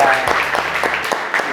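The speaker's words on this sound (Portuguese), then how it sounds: "Uma salva de palmas para todos vocês" Brief applause from an audience at a real-estate company gathering, scattered claps over a low musical tone that cuts off partway through.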